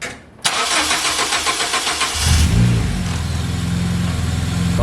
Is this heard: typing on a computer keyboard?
no